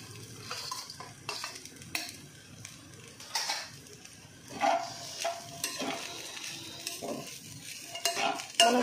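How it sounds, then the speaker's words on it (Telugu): Chicken pieces stir-fried over a high flame for spicy chicken fried rice: a continuous crackling sizzle broken by repeated scrapes and clatters of a spatula against the pan. "ఇప్పుడు ఈ చికెన్ ముక్కలు కూడా వేసేద్దామండి"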